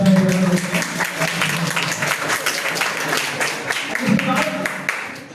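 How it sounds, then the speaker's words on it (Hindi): Students applauding at a school mental health and career awareness session: a loud burst of many hands clapping that gradually thins out, with a voice speaking over it. "आपके लिए एक बार तालियां"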